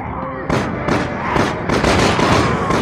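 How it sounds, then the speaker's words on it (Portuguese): A rapid burst of sharp gunshots in the video game Resident Evil 6 rings out in quick succession, loud and close, with a faint voice under the clatter. "Dar tiro aqui agora"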